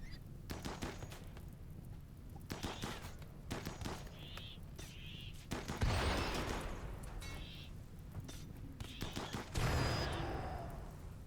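Rapid covering gunfire in RimWorld, bursts of machine-gun shots and crackling volleys with a couple of heavier blasts, moderately quiet throughout.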